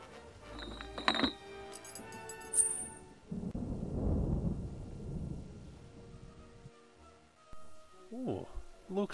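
Thunder from an approaching storm in the 2008 film Lake Acid Extinction, a low rumbling roll lasting a few seconds, preceded by metallic clinks of chains and followed by brief talk.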